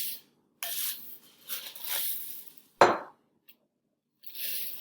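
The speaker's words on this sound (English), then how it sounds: "2 cups of Rice Krispies and mix that in" Dry Rice Krispies poured into a bowl of marshmallow mixture and stirred in, with rustling, scraping bursts and a sharp clink of the utensil against the bowl, separated by brief pauses.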